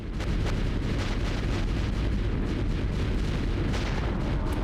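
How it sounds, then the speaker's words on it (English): Sustained video-game gunfire roars as the trigger is held down, a dense, steady wash of rapid shots and booming blasts that continues without a break, fairly loud and close. "I'm holding the shoot button down."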